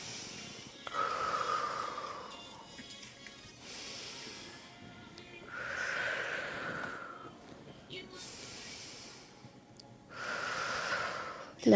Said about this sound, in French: c'est une expiration longue et prolongée